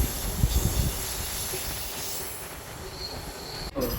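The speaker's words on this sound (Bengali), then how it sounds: "খড়গপুর স্টেশন ছাড়ার পরে এই ট্রেনটা ভালো স্পিড নিয়ে ছুটতে থাকলো।" Howrah–Jaleswar MEMU local train running at speed after leaving Kharagpur, with a steady rumble of wheels and carriage noise, faint squeal and hiss, and a brief sharp dip near the end.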